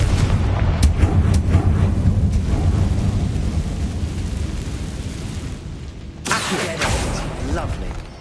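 Confringo fire spell exploding in Hogwarts Legacy, with a loud rumbling, crackling blast that fades over several seconds before a second sharp burst erupts near the end, thunderous and close.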